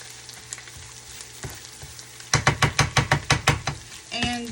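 Crab rangoon filling sizzling in a pan, a steady frying hiss, then a burst of quick rhythmic scraping stirs close by, with no talk.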